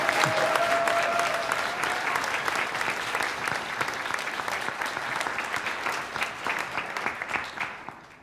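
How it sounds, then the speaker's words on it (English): Sustained audience applause at an evening Tuba Christmas holiday concert, a dense steady wash of many hands clapping that thins slightly and fades out toward the end. "So just a round of applause for everyone that organized and put this up."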